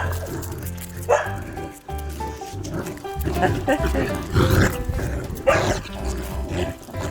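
Three dogs growl and yip playfully through a tug game with one person, close by, while the person talks excitedly over them.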